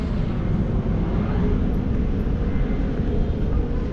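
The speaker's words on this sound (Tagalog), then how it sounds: "dito pala dumadaan yung eroplano" An airplane passes overhead along a flight path near Manila Bay, a steady, loud low-frequency roar and rumble that holds evenly throughout with no voices over it.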